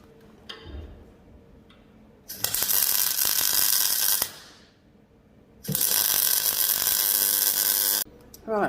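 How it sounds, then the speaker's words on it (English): Ratchet wrench tightening a nut onto a custom motorcycle fender strut, two long loud bursts of rapid metallic clicking separated by quiet pauses. "thread the nut on, tighten it onto the strut"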